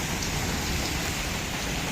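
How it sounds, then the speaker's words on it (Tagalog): Heavy rain pours down in a dense, steady roar of hiss that never lets up. "Bigla naman bumuhos yung ulan."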